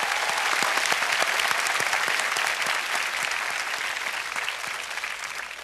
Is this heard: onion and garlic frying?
no